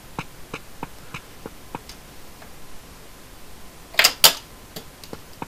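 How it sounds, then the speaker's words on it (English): A USB drive thrown across a room lands with two quick, sharp clattering knocks that stand out above a faint, steady ticking in an otherwise quiet indoor space. "And that's the sound of a USB drive flying across my room."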